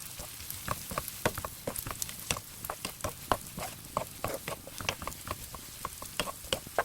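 Garlic and fish cakes stir-frying in a pan, a crackling sizzle broken by frequent sharp spatula taps and scrapes in an uneven quick rhythm, close and fairly quiet, with no talking.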